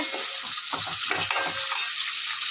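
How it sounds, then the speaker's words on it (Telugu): Chopped green chillies fry in a pan for a bottle gourd and milk curry with a continuous close hiss, broken by several quick stirring scrapes. "పచ్చిమిర్చి ముక్కలు కూడా వేసేస్తున్నాను."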